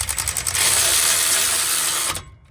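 Mechanical ratcheting on two 17mm caliper bracket bolts during front rotor and pad replacement on a 2014 Subaru Outback 2.5 Premium, a loud, close rapid buzzing rattle lasting about two seconds before stopping abruptly.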